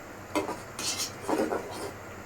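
Lentil dal being stirred in a cooking pot: a few scraping clinks of a spoon against metal in two short bursts, close and moderately loud over quiet kitchen background.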